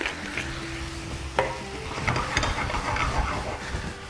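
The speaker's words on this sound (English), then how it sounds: "Give it a good mix." Creamy Bovril mushroom sauce is stirred in a pan, a soft continuous scraping and swirling with light sizzling underneath, steady and close, no voices.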